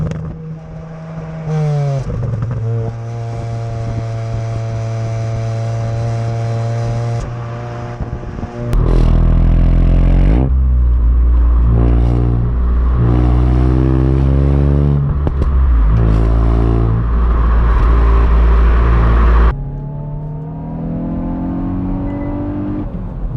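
A Hyundai i20N hot hatch engine pulls hard while driving, loud and close, rising through the revs with sharp gearshift breaks and renewed climbs, heard alone without talk.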